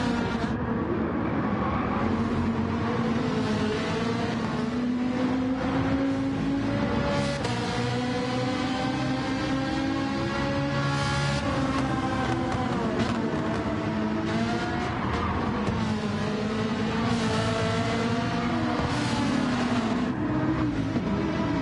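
Race cars in Gran Turismo 7, including a Porsche and a Ferrari, roar continuously with layered engine whines rising and falling through gear changes as the pack races close together.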